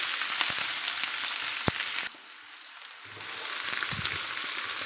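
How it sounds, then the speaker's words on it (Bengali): Chopped onions dropped into hot oil with cumin and spices, a steady sizzling fry that briefly dips quieter midway before the crackle builds back up, close and continuous with no talking. "এখন কেটে রাখা পেঁয়াজগুলো দিয়ে দেবো।"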